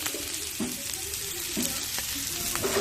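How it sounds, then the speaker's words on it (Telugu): Bitter gourd slices fry in hot oil with a continuous close sizzle, broken by several sharp scrapes and clinks of stirring, no speech. "ఇంకొంచెం వేగేది ఉంది"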